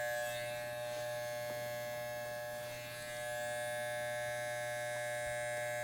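Hair clipper buzzes steadily as it shaves up the side of a client's head, a close, continuous electric hum with a slight dip in the middle and no talk.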